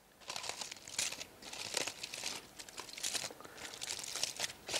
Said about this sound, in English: You carefully open the foil and make a nest shape with it around the apple